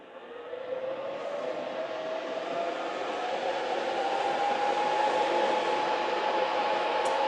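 A Benjamin Recharge personal air compressor's cooling fan runs with the compressor itself switched off, a steady broadband whir with a faint rising tone, close and continuous, gradually growing slightly louder.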